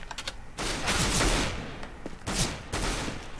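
Rapid bursts of automatic gunfire from the CS:GO video game, several loud clattering volleys separated by short pauses, close and dense, with no talking over them.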